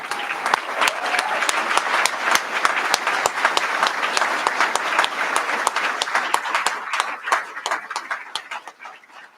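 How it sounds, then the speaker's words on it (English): Audience in a room applauding at a medical school white coat ceremony, a full steady round of clapping with many close sharp claps that thins out and fades toward the end. "Please join me in giving them another round of applause."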